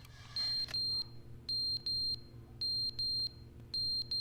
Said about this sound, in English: I think it's like a fire alarm or something.